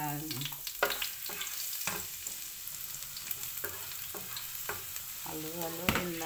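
Garlic frying in a pan for a mixed-vegetable dish, stirred with a utensil: a steady close sizzle broken by repeated scraping stir strokes, with no talking.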